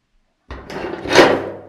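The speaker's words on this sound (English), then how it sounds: "closed the door, and double-locked himself in" A house door swings shut and is locked with a wooden clunk and a rattling latch, one close, brief sequence rising to a louder thump near the end, set in a quiet room on a Christmas night.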